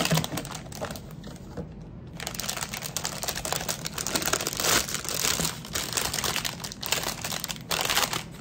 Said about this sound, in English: I'm going to open this package.